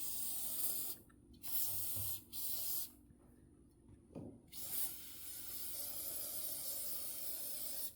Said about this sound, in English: Spray a little more down here.